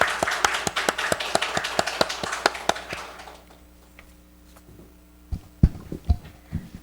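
Congregation applause during a Sunday service at a Korean church, welcoming a student up to speak. Brisk clapping from a modest group lasts about three seconds and fades, followed by a quiet pause and a few nearby knocks and taps.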